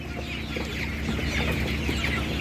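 A crowd of chickens, including young roosters and meat birds, clucking continuously at an outdoor animal market, a dense, loud chorus with no pauses.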